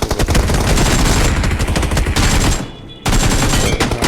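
Rapid gunfire from a teammate shooting an enemy in a video game, dense automatic bursts close and loud, with a brief pause before firing resumes.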